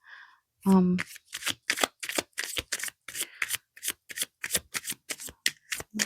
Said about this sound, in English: as I was shuffling